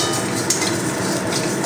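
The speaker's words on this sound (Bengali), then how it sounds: "চালগুলো ফুটছে তো" Rice grains frying and puffing in a very hot wok over a high flame, a dense, loud crackling hiss throughout with faint scraping, close and continuous.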